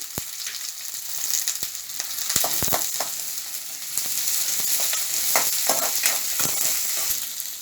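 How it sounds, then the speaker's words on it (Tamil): Shallots, garlic, ginger, curry leaves, cumin and pepper sauté in oil for an egg paniyaram curry, giving a steady close sizzle broken by frequent scraping stirs and taps of a spoon against the pan. "இது கூட கொஞ்சம் கருவேப்பிலை, சீரகம், மிளகு இதெல்லாம் சேர்த்து நல்லா வணக்குங்க"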